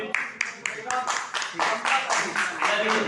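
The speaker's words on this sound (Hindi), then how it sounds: "आप लोग कम से कम ताली बजा लीजिए उनके लिए।" An audience at a Hindi-language district ceremony claps for the program's organizers as the event nears its close: quick, fairly rhythmic claps, moderately near, mixed with a voice speaking over them.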